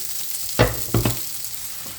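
Cabbage is tipped into a pan of fried sausages, bringing a background sizzle and two or three close thumps and scrapes as the vegetables land and are stirred.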